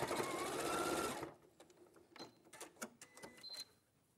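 A sewing machine stitches the short end of a Christmas quilt piece in one steady, fast whirring run that stops abruptly, followed by soft clicks and handling sounds from the machine and fabric.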